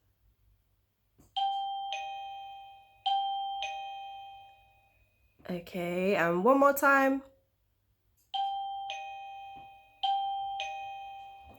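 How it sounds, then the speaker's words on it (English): Two-tone ding-dong doorbell chimes ring clearly twice in a row, someone speaks briefly in between, then the chime pair sounds twice more, loud and close. "If you guessed it was a doorbell, you are correct."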